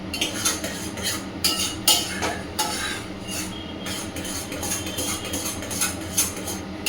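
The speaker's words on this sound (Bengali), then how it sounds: "এটাকে কিন্তু এখন আমি অনেকক্ষণ ধরে নাড়বো, নেড়ে নেড়ে একদম শুকনো করে দেবো।" Semolina stirred in a pan until dry, a repeated scraping of a spoon against metal with irregular clinks, steady and close, no one talking.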